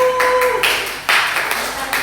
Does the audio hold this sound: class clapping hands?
yes